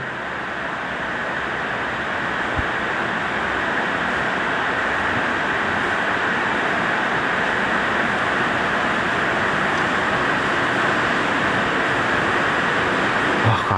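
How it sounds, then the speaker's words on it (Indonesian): Heavy rain pours steadily outside an empty regional hospital in Sintang, a dense, continuous hiss of falling water that stays loud and unbroken throughout. "Gua kira keran dibuka, enggak taunya ini suara hujan."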